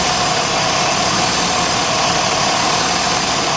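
A 2006 Jeep Grand Cherokee Laredo with the 3.7 engine idles with a cylinder 3 misfire, giving a close, loud, continuous engine rumble and hum that stays steady throughout, with no voices.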